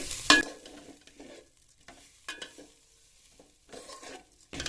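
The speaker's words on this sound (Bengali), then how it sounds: "নারকেলটা দিয়ে আরো 2 মিনিট চালটা ভেজে নেব" Rice and grated coconut frying in a pan, with intermittent scraping stirs and clinks of a spoon against the pan over a faint sizzle, close and fairly quiet.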